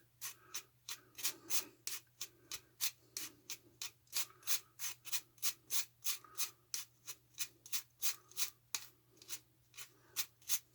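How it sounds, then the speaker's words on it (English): Steady rhythmic rubbing strokes of sandpaper over a large clay piece, roughly two strokes per second, close and even, with a low constant hum underneath and no talking. "This thing's taking a lot of sand."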